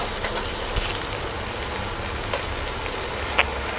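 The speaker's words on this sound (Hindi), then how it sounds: "करीब 1 मिनट तक इसको मीडियम आंच पर ऐसे चला लीजिए" Peas stirred and fried on medium heat for masala oats, producing a dense, continuous close sizzle with occasional faint utensil clicks and no talking.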